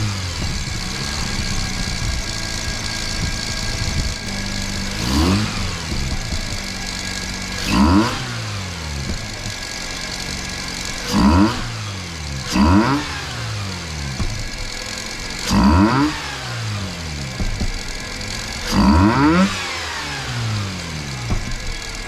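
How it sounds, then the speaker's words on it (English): Mazda RX-8 rotary engine, just fitted with new spark plugs, idling steadily and then revved in a series of about six sharp blips that rise and fall at regular intervals, close and loud. "I'll quickly fire up the car and we'll see how this goes"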